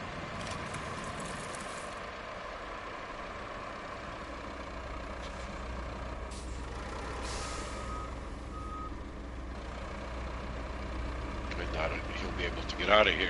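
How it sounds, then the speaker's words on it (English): A Greenway cargo tractor truck in the Roadcraft video game, with a steady low engine drone, faint reversing beeps and people talking over it. "Really liking the Greenway cargo tractor."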